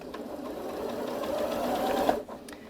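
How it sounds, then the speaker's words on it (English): Janome Memory Craft 8200QCP SE sewing machine stitching steadily, a close, continuous motor hum and needle whir that runs without pause before stopping abruptly near the end. "So I'm going to go ahead and sew now."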